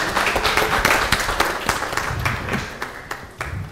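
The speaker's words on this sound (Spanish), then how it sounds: "Un aplauso para" Applause for a deputy from the audience at an inclusion dialogue panel, a burst of many hands clapping that gradually thins and fades toward the end.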